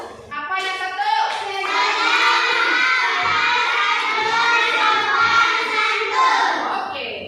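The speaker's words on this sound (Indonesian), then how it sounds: "Tepuk tangan untuk kita" A class of children claps hands together in a classroom, a sustained burst of many small hands following a short spoken call, with children's voices and shouts mixed through the clapping.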